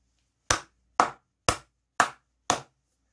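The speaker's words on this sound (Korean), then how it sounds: "크게 박수 한번 치고 가도록 하겠습니다" Five sharp hand claps from one person, evenly spaced about half a second apart, close and fairly loud with no other sound between them.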